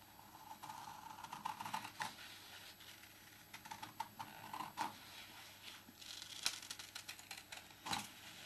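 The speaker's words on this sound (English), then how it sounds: "I take the scissors and I start cutting them out." Scissors snip through paper to cut out hand-drawn kitchen cupboard shapes, close and quiet, with irregular crisp cuts and soft rustling across a hushed, intimate ASMR setting.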